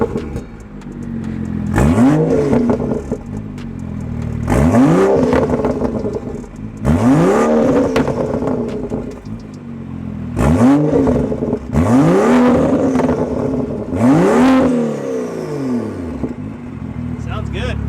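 A modified BMW F30 335i with a turbocharged, methanol-injected N55 engine revs repeatedly from inside the cabin, its loud intake and exhaust rising in five or six strong sweeping pulls, each falling back between bursts.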